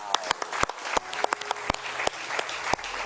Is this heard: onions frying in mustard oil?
no